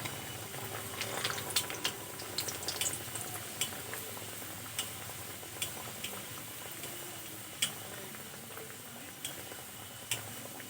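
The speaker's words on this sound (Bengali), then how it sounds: "সবগুলো আমি একইভাবে উল্টিয়ে পাল্টিয়ে ভেজে নেব" Crispy snacks (nasta) frying in hot oil and being turned over one by one, a soft continuous bubbling with scattered light clicks and taps from flipping, fairly quiet and without speech.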